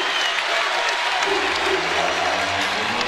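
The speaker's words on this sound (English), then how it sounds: "so the crowd has come alive" Basketball arena crowd at a Virginia Tech versus Louisville game, a broad, loud sustained roar of cheering and applause filling the space, with a low hum beneath.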